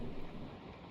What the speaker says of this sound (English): The sound of the rain hitting like a metal, one of those drains.